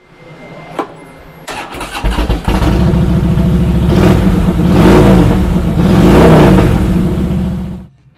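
A 2013 Harley-Davidson Heritage Softail Classic with a 103 cubic inch V-twin cranks and catches, then rumbles loudly through a few blips of the throttle before cutting off, close and alone.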